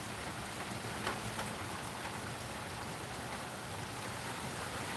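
Steady rain pours outside a home near a door, a dense, even hiss of drops striking surfaces with a few brief louder patters, no voices.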